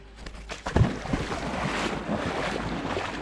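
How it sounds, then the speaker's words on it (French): Gusty wind on a trail-running course rumbles and buffets the microphone, with a low roar and a few thumps early on. "Il y a un bon petit vent, ça rafraîchit."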